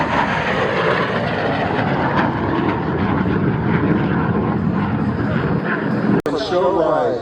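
An airplane makes a high-speed pass at the Wings over Camarillo air show, a loud sustained roar filling the whole clip with a brief dropout near the end.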